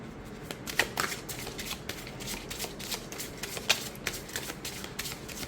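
A deck of Phantasma Tarot cards with slippery cardstock is shuffled close up, producing a continuous papery riffle with soft repeated flicks and slaps, and no one speaks.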